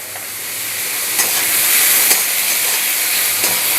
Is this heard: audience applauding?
no